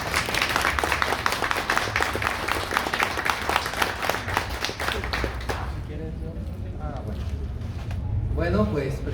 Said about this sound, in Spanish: Les pido un aplauso para los poetas.